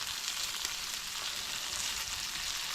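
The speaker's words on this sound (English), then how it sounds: "I'm going to flip it once more here just to fry that last potato that I threw on there." A deer heart and potatoes frying in a pan make a constant, close, crackling sizzle with no voices.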